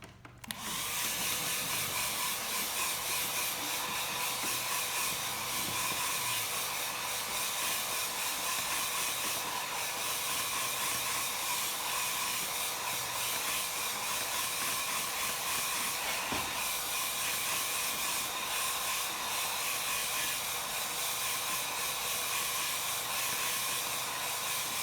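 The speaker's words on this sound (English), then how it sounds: "Let's get the hairdryer." A hair dryer blows steadily on paint at an art class, a continuous loud airy hiss and whir that starts abruptly and runs unbroken throughout, with no talking.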